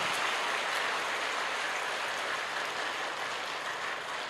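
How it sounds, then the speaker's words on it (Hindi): A large audience claps at a live talk in Ranchi, a dense, continuous wash of applause that stays loud and even throughout with no voices over it. "बड़ी अच्छी ताली बज गई"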